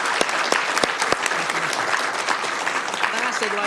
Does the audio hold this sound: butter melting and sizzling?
no